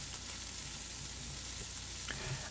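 Shrimp and chicken fry in a pan with a constant close sizzle and crackle, joined by a few light scrapes and stirring clatters, without any talking.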